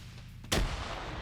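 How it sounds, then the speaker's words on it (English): Single grenade explosion in the video game High Kommand, a sharp broadband blast at mid-distance followed by a short rumbling decay over low background game noise, with no voices. "Opens up with a grenade."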